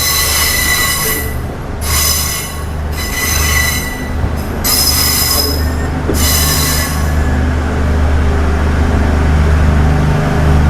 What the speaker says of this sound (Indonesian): Ini keretanya dilansir menuju ke jalur simpan teman-teman.